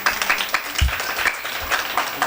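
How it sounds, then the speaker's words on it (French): Audience applause for a child at a children's Christmas dinner, a dense patter of many hands clapping steadily and fairly loud throughout, with a faint murmur of the room underneath. "On applaudit Lovensky."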